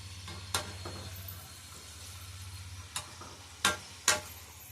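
Samosas frying in a pan of hot oil give a faint, steady sizzle over a low hum, punctuated by a few sharp clinks near the start and end.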